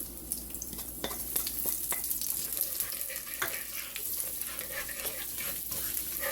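Panch phoron seeds hit hot oil for achari paneer, giving a steady, close crackling sizzle with light stirring clatter throughout and no talking.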